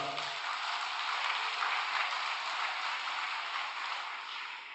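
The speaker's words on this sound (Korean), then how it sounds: "박수 부탁드리겠습니다" Applause at a 2025 vigil prayer gathering: a dense, steady wash of hands clapping, sustained throughout and easing slightly toward the end, with no voices over it.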